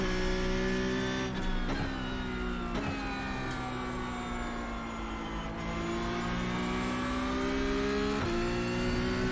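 A Porsche Cup race car's engine in iRacing at Watkins Glen, a steady high whine that climbs and drops as the throttle is worked, with several brief shifts and cuts along the way, loud and close throughout.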